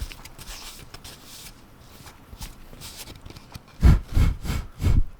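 Close, dry rubbing and brushing strokes of a cotton pad wiping debris off a scratched Pokemon Dragonite card, soft at first, then four louder scuffing swipes in steady rhythm near the end.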